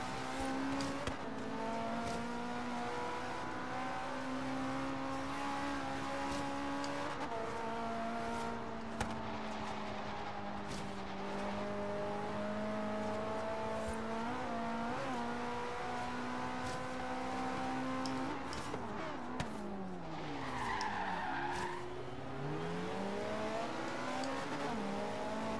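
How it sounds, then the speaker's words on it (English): A Lamborghini in the racing game Forza Horizon 3 roars with a loud, continuous engine drone that holds steady, then dips and climbs sharply through a gear change near the end, with no talking. "That freaking Lambo was loud."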